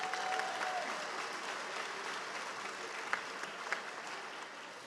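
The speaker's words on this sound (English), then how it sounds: "Please give Mr. Sattler another round of applause." Audience applause at a school commencement, a steady, fairly distant patter of many hands clapping with a couple of sharper claps standing out, with no speech over it.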